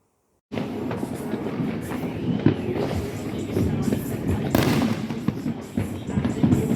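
Fourth of July fireworks set off at homes in Chicago, a dense continuous crackle and rumble with sharper bangs, fairly close and loud, no talk.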